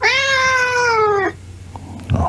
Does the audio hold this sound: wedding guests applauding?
no